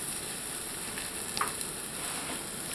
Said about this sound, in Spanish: Y lo vamos a revolver hasta que la cebolla esté dorada.